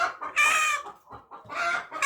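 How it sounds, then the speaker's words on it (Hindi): A hen cackles loudly and insistently nearby after laying an egg, in repeated bursts of harsh, rising squawks with short pauses between them. "मेरी मुर्गी ने आई थिंक अंडा दे दिया। वो आप अंडा दे देती है ना, फिर बहुत शोर करती है।"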